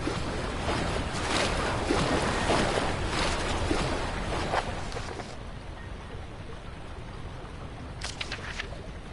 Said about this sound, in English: Spilling water.